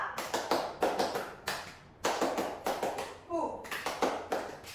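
A classroom of children claps a rhythmic spirit cheer in counted bursts of sharp hand claps, with pauses between groups and voices chanting along.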